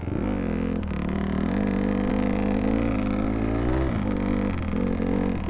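A dirt bike engine revving on a tight, sandy trail, a loud, close, sustained drone whose pitch climbs and dips as the throttle opens and eases, with brief drops near the start and end.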